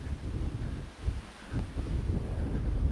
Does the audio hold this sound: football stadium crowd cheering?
no